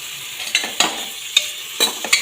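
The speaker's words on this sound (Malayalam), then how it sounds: "ഇതും കൂടി ഒന്ന് വാട്ടട്ടെ" Crushed ginger and garlic sautéing with onions in a pan for majboos rice, a soft background sizzle broken by several sharp scraping stirs at irregular intervals, close and fairly loud, with no voices.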